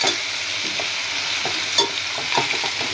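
Chicken feet frying in oil are stirred in a pan, with a constant close sizzle under irregular scrapes and clacks of the utensil, loud and without talk.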